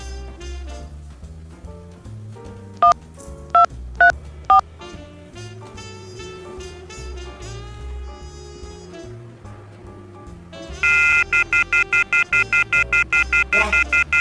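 A telephone number is dialed on a keypad, sounding several separate tones, then a fast run of evenly spaced beeps over background music.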